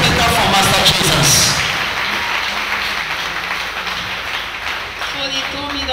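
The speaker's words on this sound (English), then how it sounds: "Put your hands together for Master Jesus" A church congregation breaks into applause, loud clapping that swells at first and then thins and fades, with a voice speaking over it.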